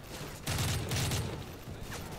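Gunfire in the video game Call of Duty: Modern Warfare 3, heard as a short loud burst of rapid shots around the middle of the clip, with a fainter shot or two after it. Nobody speaks.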